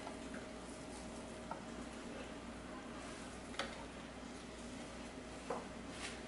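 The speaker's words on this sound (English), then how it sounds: "So let's add our spinach" Frozen spinach cooking in a pan with onions and garlic, a soft, steady sizzle with a few faint clicks and scrapes from a utensil, close and quiet, no talking.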